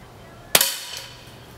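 A .22 standard-velocity 40-grain subsonic round fires once at steel plates: a single sharp, close crack with a brief ringing tail and a faint later tick, with no talking.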